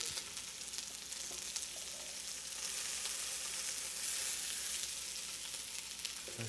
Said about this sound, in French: mais ça grésille. Donc là c'est en train de colorer.